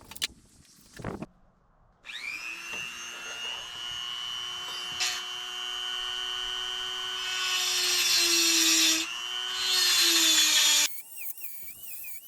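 A power tool whines steadily on a Volvo XC70 during suspension work while slotting holes in control arm parts, a long sustained high-pitched run from about two to eleven seconds with slight pitch shifts, loud and close, with no talking.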